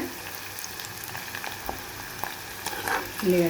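Onions fry in hot oil for a stuffed cucumber dish, giving a steady, close sizzle and bubbling with a few stirring scrapes and a louder hiss at the end.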